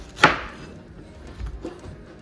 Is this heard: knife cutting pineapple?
yes